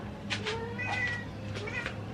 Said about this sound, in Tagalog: Ay nako, mga pusa.